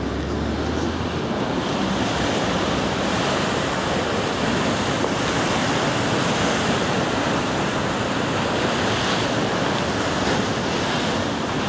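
Waves break steadily along the Irish Sea shore near Liverpool and the River Mersey, with strong wind buffeting the microphone throughout. A constant, loud, even roar with no talking.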